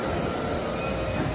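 A 10-car commuter train runs through snow in Kamakura, giving a steady close rumble of wheels and carriage noise with no talk.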